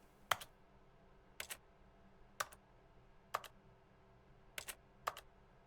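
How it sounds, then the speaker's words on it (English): Six crisp, evenly spaced keyboard key-press clicks from The Stanley Parable video game, sounding about a second apart against a quiet, low background hum. "why does that make a noise like I'm pressing a key on a keyboard?"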